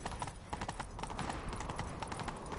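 Roach the horse gallops in The Witcher 3, rapid rhythmic hoofbeats clip-clopping close and steady across the whole stretch, with game ambience beneath.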